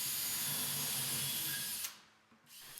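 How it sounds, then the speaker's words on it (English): A power drill bores 5 mm holes for hinge plates in a wooden desk door, a steady high whine that runs close and loud, then cuts off abruptly and briefly restarts. "Next, I drill 2 5mm holes for the hinge plates."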